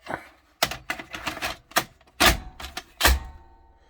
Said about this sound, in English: Let's put a tape in.